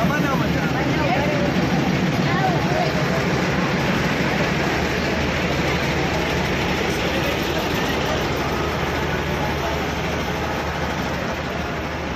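A mini toy train runs on the hill line up to Matheran, its steady rumble and wheel clatter filling the whole stretch at an even, fairly loud level with no break.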